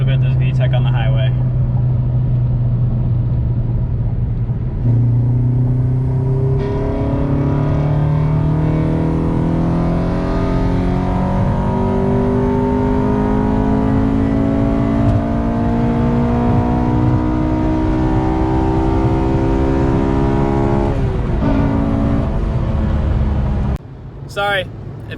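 A 2007 Honda Civic Si's VTEC engine climbs through the revs at highway speed, a loud rising engine note with gear shifts over steady road and wind roar, ending with a brief cut.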